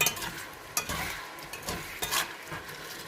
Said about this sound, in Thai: ก็ไปผัดคลุกเคล้าให้เข้ากันนะคะ ให้กุ้งเข้ากับซอส